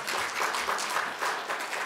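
A church congregation claps hands, a brief burst of soft, fairly distant clapping that stays even for a couple of seconds without a clear rhythm.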